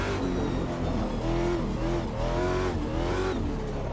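A race car engine in a racing video game revs under partial throttle, loud and close, its pitch climbing and dipping in repeated sweeps as the throttle is held and then eased up, with faint tyre noise.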